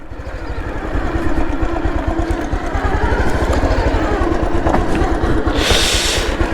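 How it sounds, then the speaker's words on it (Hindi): A motorcycle engine runs steadily close by, with a rapid, even thumping pulse at a constant idle, loud and continuous throughout. "let me turn off the bike"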